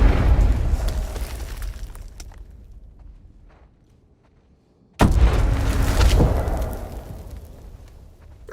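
A layered explosion sound effect for a game booms heavily, its rumble and debris trailing off over several seconds, then a second sharp blast hits and rolls on with crackling debris, loud and close with no talk.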